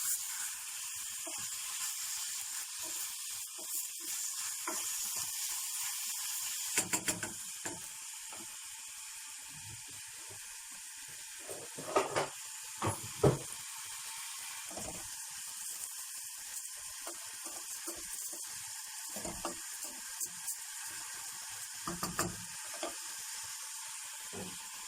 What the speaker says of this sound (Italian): la carne di vitello e la facciamo rosolare.